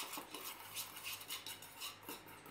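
Utensil scraping and clinking in a bowl while oil is mixed with paprika, salt, black pepper, garlic powder and onion powder for potato wedges, a steady run of quiet close stirring with no talking.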